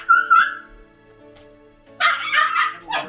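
Rescued puppies whimper with a high, thin cry at first, then break into a burst of close, yapping barks and whines, several dogs overlapping against a quiet background.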